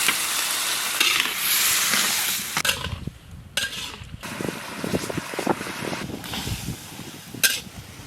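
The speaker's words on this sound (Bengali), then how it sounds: "টোটাল মশলাটা সেদ্ধ হওয়ার জন্য একটু জল দিয়ে দেবো।" Spice masala for paneer and chicken sizzles loudly in the pan, then water is added and the steady frying hiss breaks into uneven bubbling bursts and spitting close by.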